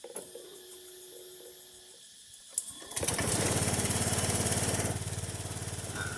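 Honda Click 125i scooter starts up near the mic after a quiet moment with a faint tone, its small engine catching with a sharp burst and then revving into a loud, steady buzzing drone that eases back slightly at the end.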